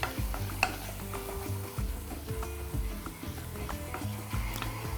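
Butter sizzles quietly in a pan with flour for a béchamel, with a spoon stirring and scraping now and then.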